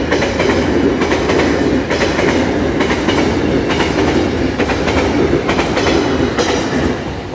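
A Taroko Express TEMU1000 tilting train, set TEMU1003+TEMU1004, arrives on the Huadong line, a loud steady rumble of rolling wheels with rhythmic clickety-clack over the rail joints, close and sustained throughout.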